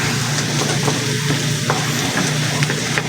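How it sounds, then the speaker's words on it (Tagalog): Garlic frying in butter for squid adobo, a steady close sizzle with faint stirring scrapes and small pops throughout, no talking. "Malinamnam ang butter saka yung bawang na magkasama. Bawang muna."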